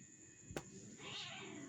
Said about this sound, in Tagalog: Pasaway na pusa.